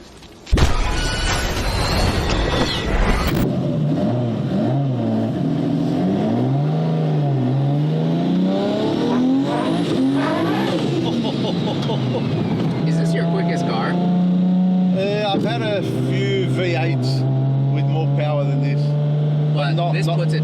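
A 1500hp Nissan Skyline GT-R R34 with an RB36 engine and paddle shifting accelerates hard, its loud engine note rising and falling through several gear changes as it pulls, heard from inside the car and starting with a sharp burst.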